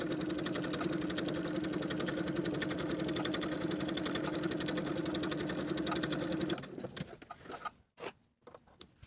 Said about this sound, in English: Using the longest stitch on your machine, sew from notch to notch